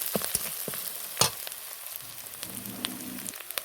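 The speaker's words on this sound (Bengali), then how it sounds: "আদাগুলো একটু ভেজে নেব।" Ginger frying in oil for a raw mango and egg dish crackles softly in a light sizzle, broken by a few sharp spatula scrapes and taps against the pan, with no one talking.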